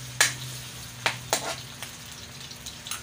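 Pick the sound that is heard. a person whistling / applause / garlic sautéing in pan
garlic sautéing in pan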